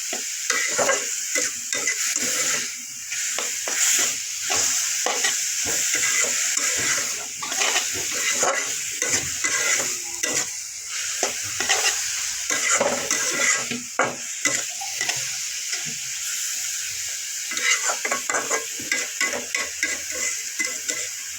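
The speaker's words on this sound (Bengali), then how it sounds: "2-3টা লাড়া দিয়ে এখন শাকটা নামিয়ে ফেলবে।" Red amaranth greens sizzle loudly in a pan while a spatula stirs and scrapes in repeated quick strokes, close up and continuous, with a brief watery hiss mixed in and no talking.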